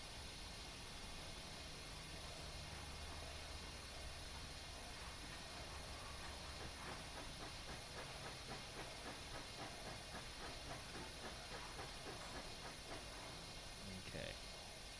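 Steady broadband hiss from a K-class steam locomotive in Train Simulator Classic, climbing a 1% grade on the Rio Grande Southern, loud and continuous throughout with faint rhythmic chuffing and a little background talk.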